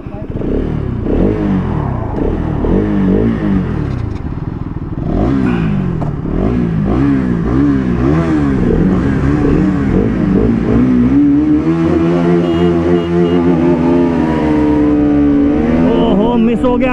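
Bajaj Pulsar RS200 and NS200 motorcycles accelerate hard in a drag race, loud engines revving up through the gears with rising pitch and shifts, close and continuous, while people talk over the noise.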